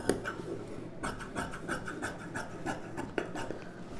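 Scissors cutting the back piece of a blouse's lining fabric, soft repeated rasping snips in a steady rhythm, quiet and close, with faint rubbing of cloth.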